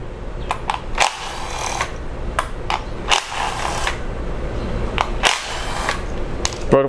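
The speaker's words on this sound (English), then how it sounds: "remove the ignition coils now with a 10mm socket" A 10mm socket wrench works a bolt loose on a Jeep Cherokee 2.4 engine's ignition coil, with sharp ratcheting clicks in short bursts and metallic clunks close up, no voices.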